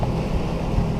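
A sailboat running under engine into a headwind and heavy swell off the Dominican Republic, a steady low motor drone blended with rushing wind and water noise, loud and continuous for a brief moment.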